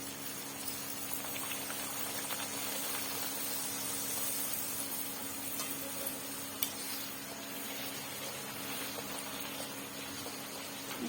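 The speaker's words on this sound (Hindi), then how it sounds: "एबे कड़ाई रे तेल गरम हो गलानी आमे एबे पूरी की पकेइबा।" Puris frying in hot oil in a kadai, a steady bubbling sizzle that runs evenly throughout with no talking.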